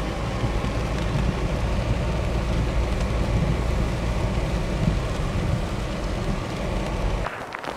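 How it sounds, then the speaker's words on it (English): Torrential rain pours down in a dense, unbroken roar that holds loud and steady throughout, with a brief knock or shuffle near the end. "the weather forecast wasn't right and the rain is torrential"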